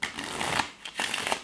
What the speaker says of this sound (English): All shuffle that, guys, all shuffle.